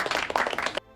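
A short burst of applause, fairly close and brisk, with quick overlapping claps that stop abruptly, leaving only faint background hum.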